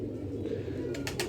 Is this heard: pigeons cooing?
yes